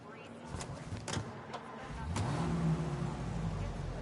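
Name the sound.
car driving in Mafia: Definitive Edition video game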